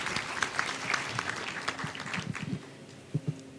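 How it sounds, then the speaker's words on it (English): Audience at a trade fair for small businesses giving a round of applause, with scattered, moderately quiet clapping that thins out toward the end. "Another round of applause, please."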